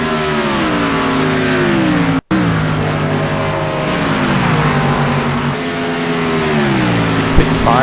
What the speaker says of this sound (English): See 55 go by that 8X machine of Andy Wilhite.